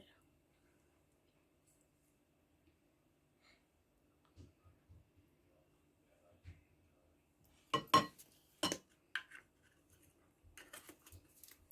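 A spoon clinks a few times against a glass or bowl while Rooh Afza is stirred into falooda, a short cluster of quiet taps after a near-silent stretch with faint soft handling noises.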